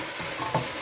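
Coconut rice with curry powder, oregano and a seasoning cube fries and gets stirred in a pot, a continuous close sizzle with a brief scrape of the spoon.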